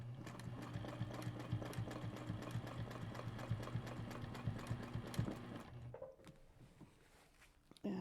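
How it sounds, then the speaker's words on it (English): Sewing machine stitching around a circle on a quilt, a steady rapid mechanical patter with a humming motor, close and continuous for several seconds before stopping abruptly, leaving quiet room tone. "And just keep stitching around."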